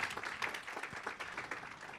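Soft, distant audience clapping at a planning indaba and young planners awards ceremony, a steady patter of many hands honouring an absent award recipient.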